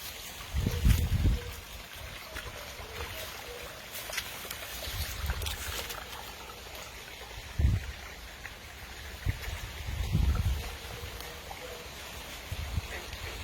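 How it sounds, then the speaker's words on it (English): Water trickles and burbles steadily in the stream of a natural swimming pond outdoors in Southern Ontario, a soft continuous flow with occasional low thumps and splashy bursts, heard alone without voices. "which then starts off the stream"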